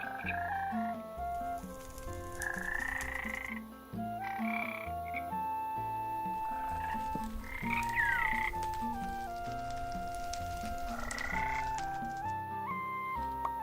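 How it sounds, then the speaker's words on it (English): Ribbit frogs in a Minecraft mod play together as a band, their tuned croaks sounding as a continuous melodic chorus of ribbits, layered notes and chirps over a steady backing, with no talking. "we are gonna be played off by some Ribbits that are having a band session"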